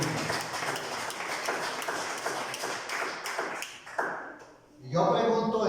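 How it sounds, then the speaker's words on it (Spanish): A church congregation at a Spanish-language morning service applauds in a dense, sustained wash of clapping that thins out near the end before voices take over. "De un aplauso en esta mañana en el nombre de Jesús."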